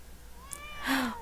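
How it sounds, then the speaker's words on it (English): A single cat meows in a video game. The meow is a short, rising and falling call, clear and fairly close, with a faint soft chime just before it. "He meows at me"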